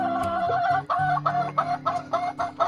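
Free-range village hens clucking repeatedly in short, close bursts, with a steady low hum running underneath.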